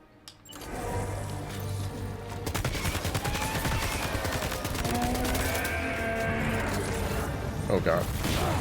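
Gunfire in the video game Death Stranding 2, rapid bursts of shots and mechanical clatter that build into sustained heavy fire over a low rumble, with a voice talking over it.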